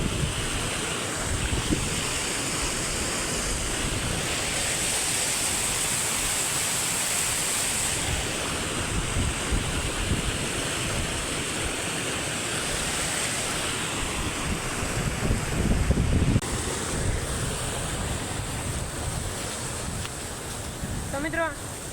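Rainwater flowing during heavy rain, a dense, unbroken rushing of water that stays loud and close throughout, roughened by some wind.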